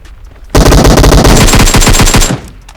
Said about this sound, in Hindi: मेरे पीक एंड फायर शॉट ने तो बचा ही लिया